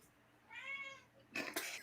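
A cat gives one drawn-out, fairly quiet meow, followed by a short burst of noise from the room.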